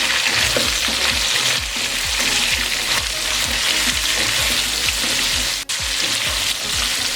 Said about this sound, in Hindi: 1 टेबलस्पून भर के हमने अदरक लहसुन का पेस्ट ले लिया। इसको 10 से 20 सेकंड के लिए हम फ्राई करेंगे।